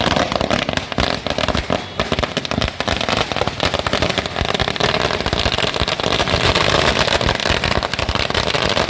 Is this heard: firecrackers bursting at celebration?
yes